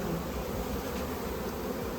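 Honeybees buzz around a hive and fan at its entrance, giving a dense, steady hum that stays fairly quiet and unbroken, with no voices.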